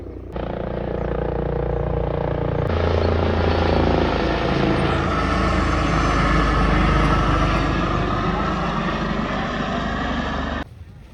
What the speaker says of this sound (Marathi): हे बघा हेलिकॉप्टर आलाय आता